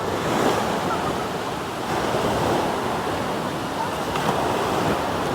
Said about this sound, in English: So this is Sky Beach here.